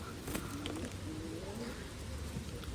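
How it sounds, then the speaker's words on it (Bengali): A naktano pigeon, a high-flying Khulna breed, coos softly in short repeated phrases over a noisy background. "এটা একটা নাকটানো কবুতর"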